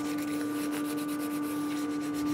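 Rhythmic rasping strokes come from deburring an ice skate blade after grinding, a steady series of close scraping passes over a constant machine hum.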